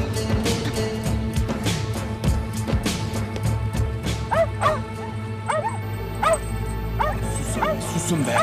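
Several dogs bark, yip and whimper in a rapid, agitated series of close, loud bursts, with people talking and shouting over them.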